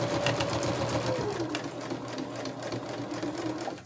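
A Kenmore sewing machine, 15 to 20 years old, runs steadily with a rapid mechanical stitching whir, its pitch dipping slightly as it slows, close and continuous.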